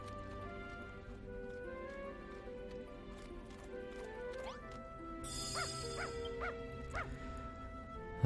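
Dragon Quest Builders 2 video game scene with a dog giving four quick, evenly spaced barks near the end over quiet looping game music and ambient tones.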